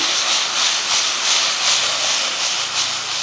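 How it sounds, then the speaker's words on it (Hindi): Vegetables frying over a high flame for a chicken BBQ rice platter give a steady, loud, broadband sizzling hiss that swells and eases slightly throughout, with no talking. "सब्जियों को फ्राई करने के लिए हमने हाई फ्लेम रखी हुई है"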